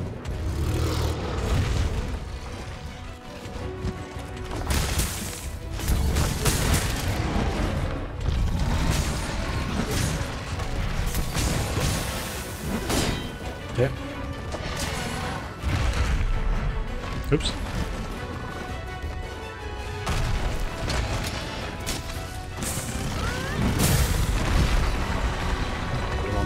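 Repeated booming explosions in Monster Hunter: World Iceborne, dense and loud over a busy game soundtrack, with players talking throughout.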